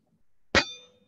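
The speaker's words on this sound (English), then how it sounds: "So cheers. Raise that glass up." A single bright clink of wine glasses touched together in a toast, sharp and close, with a short ringing tail that fades within half a second in a quiet room.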